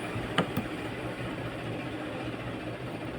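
A Honda CBR 150 motorcycle engine with a mechanical noise fault idles in a steady, low, generator-like drone, with two sharp clicks near the start and no speech.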